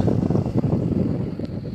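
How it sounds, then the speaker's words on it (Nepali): Steady wind buffets the microphone in a continuous low rumble, loud and constant throughout, with no voices. "क्या त्यस्तो हावा पो आयो त"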